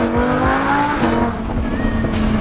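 A Lamborghini Huracan engine growls at steady revs with a clear tonal drone and a brief rising whine, sounding close and strong from start to finish.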